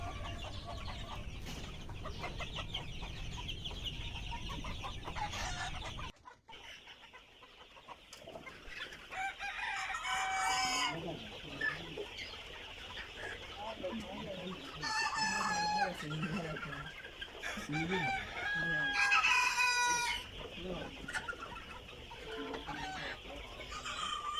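Egyptian Fayoumi chickens, about two months old, cluck and a rooster crows repeatedly in a noisy farmyard, with bursts of calls rising over a steady background hum.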